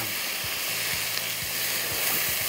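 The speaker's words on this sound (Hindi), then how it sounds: "इसके बाद इसको अच्छी तरह कीमे को भूनना है" Beef mince sizzles and fries in a pan with browned onion and garlic, a steady close hiss broken by soft stirring scrapes, with no talking.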